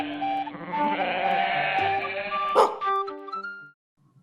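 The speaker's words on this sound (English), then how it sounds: "shepherd dogs and the flock voices can be heard calling out for the young kid" Sheep bleating loudly with dogs barking among them, a dense, continuous chorus of flock voices lasting several seconds with a sharp burst near the end before it cuts off to silence.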